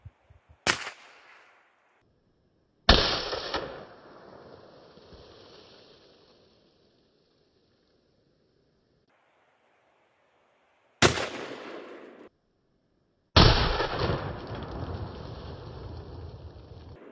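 A Chiappa Double Badger .410 shotgun fires two loud, close shots, each ringing out into a long fading tail. Sharp mechanical clicks and long stretches of silence come between the shots.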